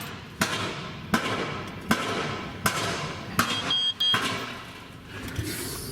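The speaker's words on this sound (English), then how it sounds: "the guy's hammering on that piece of steel" Sharp metallic hammer blows ring out about every second, six or seven strikes on steel, somewhat distant, with a brief squeak between them.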